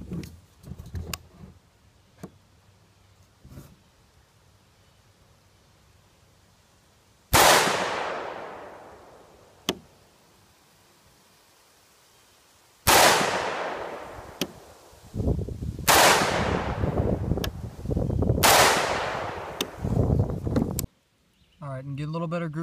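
Several loud, close rifle shots from a DPMS Oracle ring out outdoors, each followed by a long decaying echo, fired singly with pauses, some in quicker succession, over quiet background.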